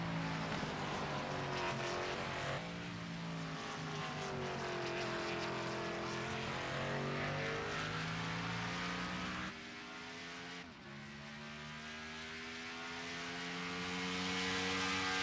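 Cup Series stock cars racing in a sim game at the Charlotte Roval, engines roaring steadily with pitch sweeping up and down through shifts, a loud continuous drone with a brief dip mid-way and no talk.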